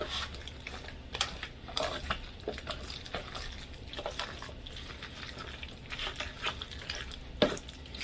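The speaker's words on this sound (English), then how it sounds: "now I'm just going to start stirring that cheese sauce down into that macaroni" Macaroni being stirred into a cheese sauce in a pot, giving faint, soft, irregular scraping and squelching with occasional light clinks of a utensil against the pan, quiet and close with no talking.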